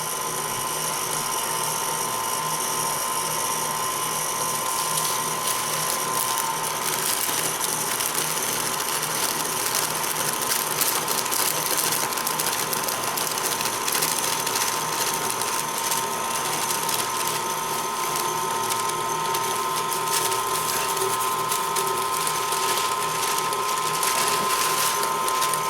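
An electric stand mixer runs steadily at low speed while sifted flour is added all at once for a Bûche de Noël sponge, a constant loud whirring hum that stays even throughout with no talking.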